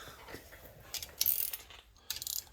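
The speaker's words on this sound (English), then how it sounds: "Tighten them up, and this brake job will be done." Ratchet clicking in short bursts as 17 millimeter brake caliper bolts are snugged down on a disc brake job, fairly faint, with quiet pauses between the bursts of pawl clicks.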